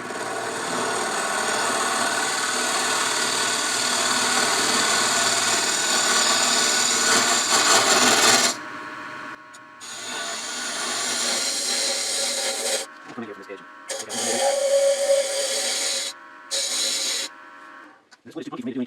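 A wood lathe grinds loudly and steadily as a tool cuts spinning punky, soft wood on a jewelry box, then stops and starts in shorter bursts with quiet gaps between.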